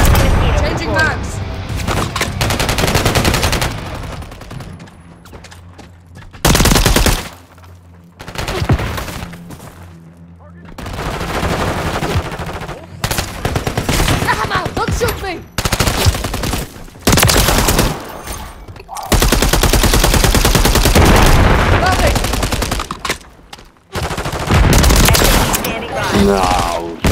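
Call of Duty combat brings loud machine-gun bursts and heavy gunfire in repeated volleys, separated by short silent gaps and quieter stretches.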